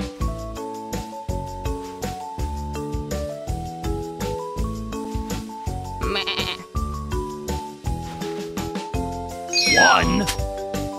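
Cartoon goat bleating in a Sesame Street counting video game, short repeated wavering bleats over bouncy game music, with a character's voice talking between them.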